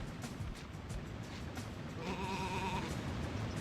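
Sheep bleats from the video game Sheep Raider, a wavering tonal call rising from around the middle of the clip over a steady noisy game background, moderately loud and alone without talk.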